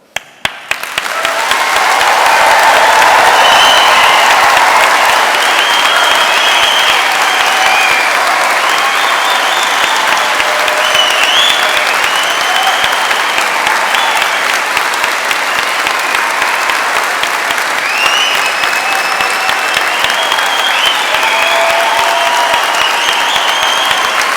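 A degree ceremony audience of friends and families in London gives long, thunderous applause, dense and sustained for over twenty seconds, with occasional whoops and cheers rising above the clapping.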